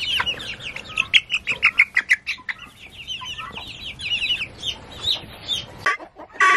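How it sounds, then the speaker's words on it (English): Pearl gray guinea keets peep in rapid, shrill, overlapping chirps, a busy and loud chorus of baby fowl close by, thinning out toward the end. "These are just your standard pearl gray guinea keets."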